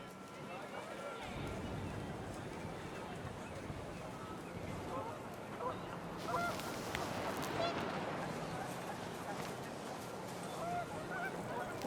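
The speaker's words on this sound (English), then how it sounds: "The wind picked up and panicked geese appeared and quickly went." Panicked geese honk in a windy outdoor scene from the video game What Remains of Edith Finch, with a mix of overlapping honks and calls over a steady rushing background.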